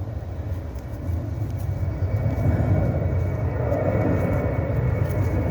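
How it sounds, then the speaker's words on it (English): Airplanes pass overhead on a morning in a garden, a low, broad engine rumble that slowly builds and holds at a moderate distance with no talk. "there's lots of planes coming over this morning as well"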